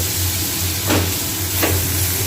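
Jhinuk shellfish sautéing in spiced oil with salt and turmeric, a steady close sizzling hiss broken by two brief stirring scrapes.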